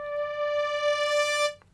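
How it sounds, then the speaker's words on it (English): Orchestral French horns in a Logic Pro X arrangement swell in a single sustained chord that grows brighter and fuller, then cuts off cleanly near the end, heard alone. "I decided to add a French horn crescendo"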